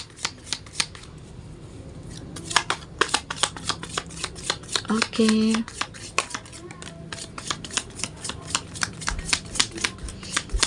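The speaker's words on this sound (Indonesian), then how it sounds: "kita akan coba shuffle kartunya" Tarot cards being shuffled by hand in a rapid, crisp run of riffling clicks and flutters lasting several seconds, with a brief spoken word near the start.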